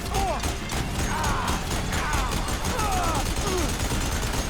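Gunfire in Horizon Forbidden West plays as rapid mechanical bursts of shots over a busy background of game sound, steady and loud throughout.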